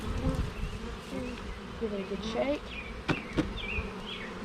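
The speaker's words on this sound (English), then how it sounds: "Shake them bees down in there." Honeybees buzz in a dense, agitated swarm as a hive lid is shaken during a hive inspection, a steady droning hum with a few sharper knocks, while a person talks over it.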